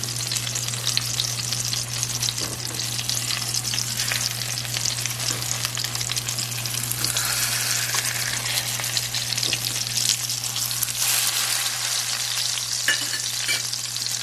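A breaded steak fries in a pan after being flipped, giving a loud, continuous sizzle with occasional crackling bursts and scraping stirs, while a steady low hum runs underneath.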